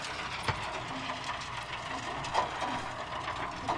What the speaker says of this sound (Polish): Zobaczcie, jak ładnie, dokładnie zbiera maszyna teraz po modyfikacjach.